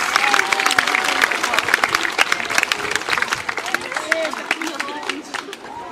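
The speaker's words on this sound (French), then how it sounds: "Sous vos applaudissements, s'il vous plaît" An audience applauds at a 14 July medal ceremony in Trois-Bassins, with dense, steady clapping from a crowd and voices talking beneath it.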